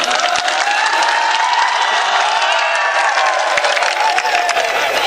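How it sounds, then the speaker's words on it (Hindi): Steady, loud applause from a mushaira audience at a Deoband poetry gathering, a dense wash of clapping that holds evenly for about five seconds with no voices over it. "जरा जोरदार तालियों के साथ"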